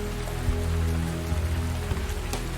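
Steady rain pattering and dripping on surfaces around koalas sheltering in trees, a dense continuous wash of drops with a few louder single plinks, even and unbroken.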